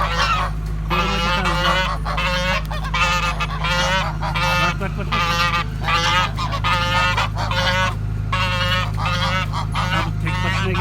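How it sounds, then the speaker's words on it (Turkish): Geese honking loudly and repeatedly up close, a rapid series of nasal calls in bursts with short pauses, over a steady low hum in the background. "Evet, kazlar."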